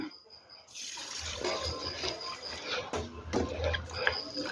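Water splashes and swirls in a vessel as rice is stirred and rinsed by hand, a steady wet sloshing close by.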